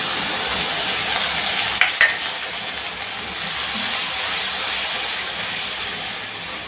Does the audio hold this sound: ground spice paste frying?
yes